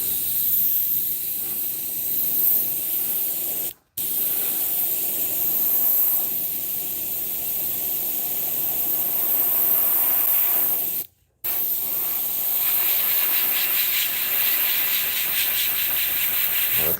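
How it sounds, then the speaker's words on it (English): Spray paint hisses from an aerosol can in long, loud continuous bursts, with two brief pauses between sprays and no talking. "Let's start spraying."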